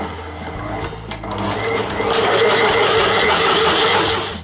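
A stand mixer kneads bread dough on high speed, its motor whirring up and settling into a loud, steady grinding hum with faint knocks as the dough turns.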